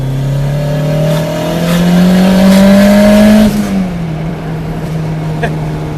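Turbocharged Honda Civic EK hatchback, a 390 hp build, pulls hard in third gear, its engine note climbing loudly and steadily before a shift and lift-off with a brief turbo release, heard from inside the car.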